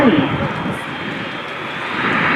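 A Boeing C-17 Globemaster III military transport at the Oshkosh airshow roars past as a loud, broad jet-engine rush that fades slightly and swells again, with a brief pitch sweep at the start.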